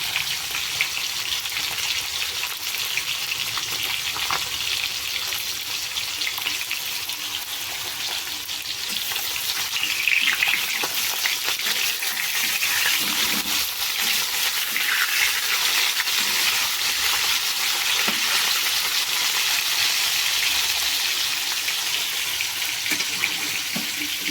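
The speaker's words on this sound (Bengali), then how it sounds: "এদিকে মাছ ভাজার আওয়াজটা শোনো" Fish fries in hot oil, giving a steady, loud, hissing sizzle with occasional crackles and faint clinks throughout.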